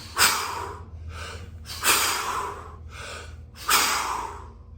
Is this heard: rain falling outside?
no